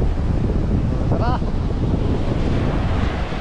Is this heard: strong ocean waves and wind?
yes